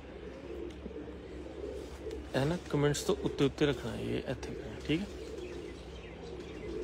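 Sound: pigeons cooing on a rooftop loft

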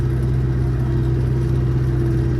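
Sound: tractor engine while plowing a field

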